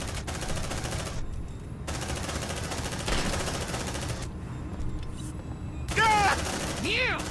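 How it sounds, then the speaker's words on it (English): A sentry gun in the Aliens: Dark Descent game fires in long sustained automatic bursts, loud and continuous, stopping briefly between volleys while voices talk alongside. "Set up the sentry gun there."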